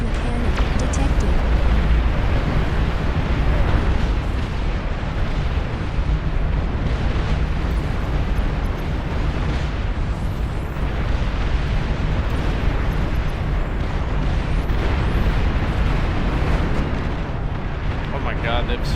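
Plasma cannon fire and explosions in Beyond All Reason, a dense, continuous roar of overlapping booms and blasts, loud and unbroken, with a voice faintly present.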